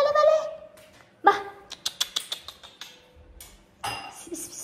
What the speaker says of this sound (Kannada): ಸುಮ್ಮನೆ ಬೊಗಳುತ್ತಾ ಇರ್ತಾರೆ